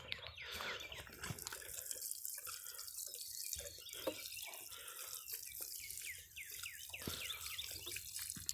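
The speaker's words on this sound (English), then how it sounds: "This is row 2 I'm watering." Water splashing steadily onto a row of young Sea Island cotton plants during hand irrigation outdoors, a continuous faint pour with drips and trickles and no talking.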